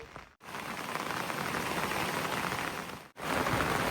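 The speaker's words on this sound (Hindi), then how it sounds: "अभी एकदम से इतनी तेज बारिश भी शुरू हो गई है।" Heavy rain pours steadily outdoors at night in a high mountain meadow by a shepherd's camp, a dense continuous hiss that is loud and close, broken by two brief dropouts, with no voices.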